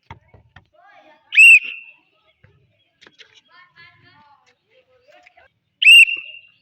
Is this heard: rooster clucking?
no